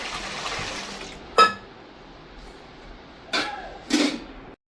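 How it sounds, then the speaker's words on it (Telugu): Water is poured onto black-eyed peas left to soak after two rinses, a soft running splash at first, then a few short, brisk gushes and splashes close by. "ఇప్పుడు వాటర్ వేసి వదిలేస్తున్నాను"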